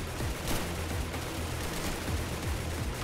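Gunfire in a gory Roblox shooter game, a steady stream of fairly quiet repeated shots and low thumps over continuous background noise, no talking.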